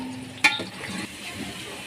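Onions frying in a pan toward golden brown, a soft steady sizzle with a sharp clink or stir near the start, no talking.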